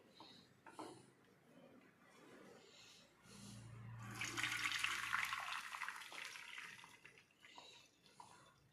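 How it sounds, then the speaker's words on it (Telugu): Boiled rice, cooked about 90% and taken off the stove, is strained of its starchy water: a splashing, pouring rush builds midway, swells loud for a few seconds, then fades into quieter kitchen handling noises. "ఈ రైస్ని మనము వడకట్టుకోవాలి."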